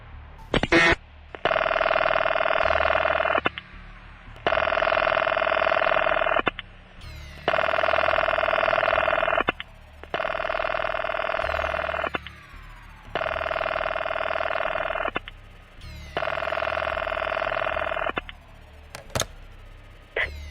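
Old-fashioned telephone bell ringing for a radio drama, six long rings in a steady ring-pause rhythm, loud and close with no talk over it.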